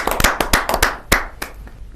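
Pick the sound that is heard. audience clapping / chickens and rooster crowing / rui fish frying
audience clapping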